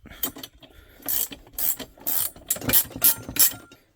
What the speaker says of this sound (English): Got our 1/2-inch ratcheting wrench here.